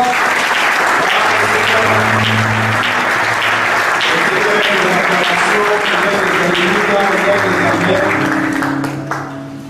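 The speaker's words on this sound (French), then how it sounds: "On va acclamer le Seigneur très fort." A church congregation applauds and cheers in a dense, sustained roar of clapping that stays loud for nearly ten seconds over sung or shouted voices, then thins out at the very end.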